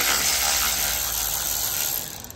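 A ratchet driver undoes T30 Torx screws on a salvage Mini Cooper S. It gives a loud, steady stream of fast ratcheting clicks that fades slightly near the end.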